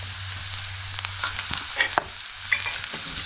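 Goda masala roasting with browned onion in a pan, giving a steady close sizzle and frying hiss with soft scraping stirs, heard alone without talk.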